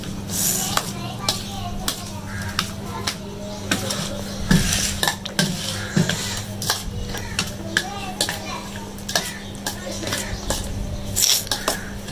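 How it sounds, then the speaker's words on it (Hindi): Chaat ingredients being stirred and mixed with a spoon in a dish, close clinks and scrapes of metal on the bowl with soft mushy stirring, while someone talks over it. "ये 1 चम्मच चाट मसाला डालेगा। हम इन सब चीज़ों को मिक्स करेंगे।"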